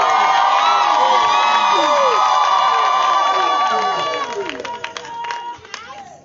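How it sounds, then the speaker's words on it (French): Wedding guests erupt in loud, joyful cheering, a dense crowd of whooping and shouting voices sustained for about four seconds before fading into scattered claps and murmurs. "Je n'entends pas vos cris de joie,"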